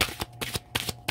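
Oracle cards slipping from a deck, a quick series of crisp papery flicks and snaps at close range, about six in just over a second, with no talking.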